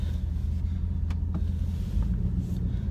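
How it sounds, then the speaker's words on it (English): A 1997 Chevrolet Camaro Z/28 with a 5.7-liter LT1 V8 being driven, its deep engine rumble steady and loud from inside the cabin, with a few light clicks and rattles over the drone. "let's take it for a brief little drive."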